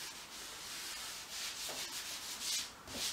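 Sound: rubbing paint onto a canvas for an abstract painting

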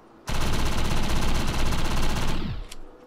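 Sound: SMG gunfire in video game Defiance

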